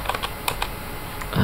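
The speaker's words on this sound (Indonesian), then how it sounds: "Oke, kita ketikkan WSL." Close, crisp keystrokes on a computer keyboard, a short quick run of clicks in an uneven rhythm while a command is typed, with no voices.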